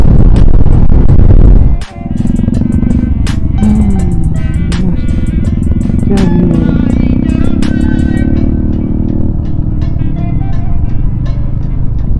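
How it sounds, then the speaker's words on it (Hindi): A Bajaj Dominar motorcycle rides past close and loud on a Sunday ride, with a steady engine drone and shifting tone that lasts most of the time, after a brief dropout near the start. "डोमिनार होगा अभी"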